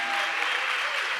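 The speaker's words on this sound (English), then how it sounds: "But please, another huge round of applause for Fátima Miranda." Brief burst of steady audience applause for Fátima Miranda at a conference plenary session, dense clapping filling the room.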